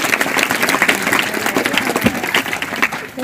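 Villagers at a kirtan applaud as a dense, steady wash of many hands clapping together in a large gathering, sustained throughout and fading slightly at the end.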